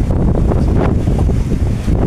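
Strong waves churn around a boat out at sea near Dumangas, Iloilo, a loud continuous rushing roar with heavy wind buffeting the microphone.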